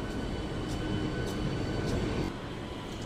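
A train stands at a railway platform, giving off a steady low engine rumble and hum that continues throughout and eases slightly near the end, with no one talking.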